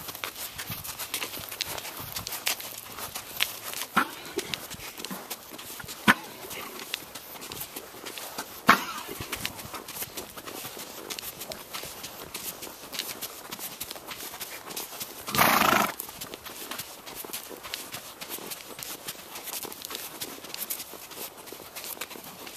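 A ridden horse walks with soft, irregular hoof clip-clops at moderate distance, faint against outdoor background, with one brief louder burst partway through.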